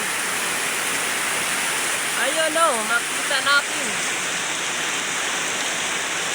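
Steady, heavy broadband rush like a downpour fills the clip, with someone speaking briefly over it midway.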